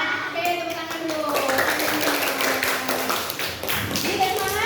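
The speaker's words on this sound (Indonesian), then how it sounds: "Oke, tepuk tangan dulu." Schoolchildren clap their hands together in a classroom, a dense burst of many small claps running steadily through the clip, with children's voices and sung tones mixed in.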